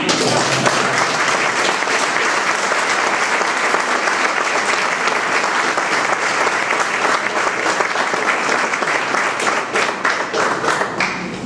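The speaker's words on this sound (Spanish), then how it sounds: "Un aplauso para los santos de Dios." A church congregation at a Sunday homily breaks into loud, sustained applause, dense clapping that fills the space steadily and tapers slightly at the end.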